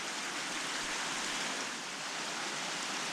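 Glacial snowmelt water pouring off Mount Hood at Muddy Fork, a continuous dense roar of flowing stream, even and unbroken throughout, heard nearby with no talking.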